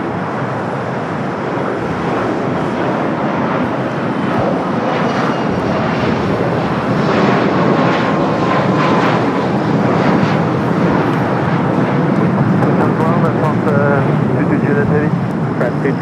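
A Lufthansa jet taxiing at LAX, its engine roar steady and loud throughout, a continuous broad rumble with a faint whine on top.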